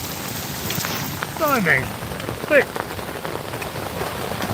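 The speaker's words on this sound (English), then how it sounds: "Or rather, it's hailstorm." Hailstones patter steadily on a tent and the tree overhead during a hailstorm near Bray-sur-Seine, France, a continuous close drumming with a man's brief startled exclamations over it.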